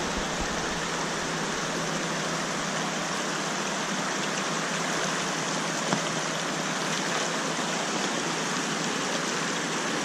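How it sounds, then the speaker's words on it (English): Water rushes steadily through a gold mining sluice box in a dense, unbroken hiss, loud and close, with no voices over it. "watch how fast it runs right through there with the water going good like this"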